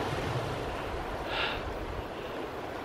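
Ocean surf washing against a rocky coastline along the Cape to Cape track near Gracetown, a steady broadband wash with wind noise, one slightly louder swell surging midway.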